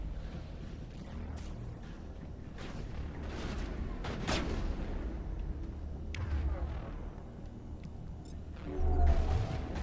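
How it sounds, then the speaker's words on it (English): Gunfire rings out in a Mass Effect firefight, irregular gun bursts and booming impacts over a rumbling background, with a heavier blast near the end. "Who the hell's shooting at us?"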